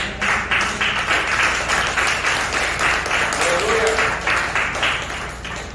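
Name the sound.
congregation applauding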